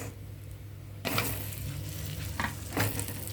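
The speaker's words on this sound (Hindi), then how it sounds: "अब मैं इसके अंदर डाल रही हूँ प्याज" Onion goes into a hot pan of oil with whole spices for Shahi Paneer. A quiet hiss jumps at about the one-second mark into a loud, close sizzle, followed by brief stirring scrapes and bursts of crackle.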